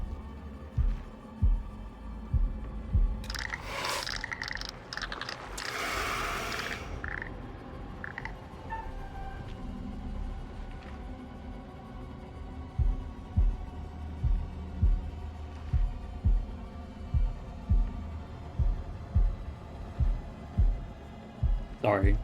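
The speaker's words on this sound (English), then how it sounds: "She hates the sound of a heartbeat." A heartbeat effect thumps in the horror game House of Ashes, faint at first and then growing into a steady, regular low pulse. Someone talks over the early part, and a short burst of other noise breaks in near the start.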